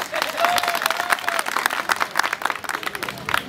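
At a joint event of two Turkish community associations during a live auction, the crowd breaks into uneven applause with scattered claps and a few cheers, while voices and a brief tone sound through it.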